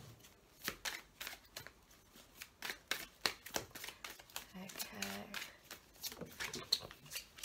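Tarot cards are shuffled and drawn from a deck in soft, papery riffles and flicks repeating close by, with a voice speaking over them throughout.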